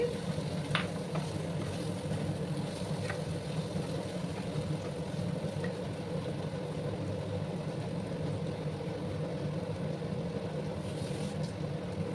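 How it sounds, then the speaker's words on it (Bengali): Potatoes fry in oil spiced with whole garam masala for a vegetarian potato and eggplant dish, giving a steady low sizzle and bubbling throughout, with a few faint clicks of stirring, close and without talk. "গরম মশলা পুরো অ্যাড করলাম এবার আমি আলুগুলো প্রথমে দিয়ে দিচ্ছি"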